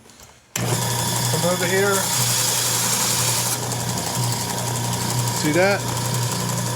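A sander smooths wooden scraps being made into a business card holder, a steady motor drone with grinding rasps, close and loud, while someone speaks briefly over it.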